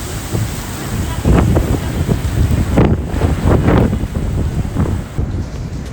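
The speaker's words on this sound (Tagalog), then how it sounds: "Pagkusog ang hangin." Strong gusts buffet the microphone in loud, rumbling bursts, with a rushing roar that swells and eases continuously, outdoors in Sydney during Vivid Sydney.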